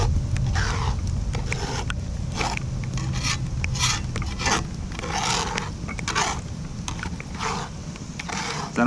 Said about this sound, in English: once they start cooking, you have to keep stirring them so it doesn't brown or kind of get a burnt taste to it